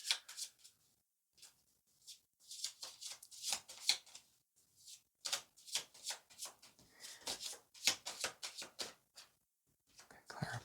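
Tarot cards are shuffled by hand in short, quiet papery bursts and riffles, separated by brief pauses, with no talking over them.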